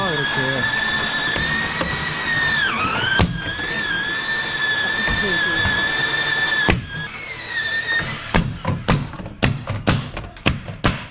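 A power tool cuts exterior plywood sheathing on a house build, giving a loud, steady high whine that dips briefly under load. It then stops, and a series of sharp knocks and taps follows.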